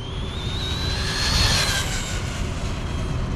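A Traxxas Rustler 2WD RC car motor runs at full throttle on a speed run, giving a continuous loud whine that rises slightly in pitch and then holds steady, with no talking.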